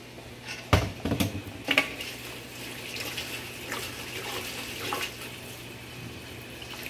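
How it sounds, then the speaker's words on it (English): Water runs steadily from a kitchen tap over noodles with a soft hiss, a few splashes and clatters near the start, no voices. "Put some water over it,"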